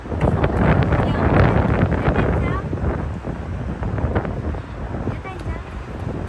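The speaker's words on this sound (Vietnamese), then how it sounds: "Trời ơi, gió thổi tóc bay bay." Strong sea wind at the beach in Ocean City, Maryland buffets the microphone in loud, continuous gusts, with faint voices talking underneath.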